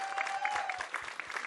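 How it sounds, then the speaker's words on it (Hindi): Dense audience applause fills the hall at a trailer launch event for the film 'Goodbye', a steady wash of many hands clapping together with faint crowd murmur underneath. "एक बार जोरदार तालियां हो जाएं"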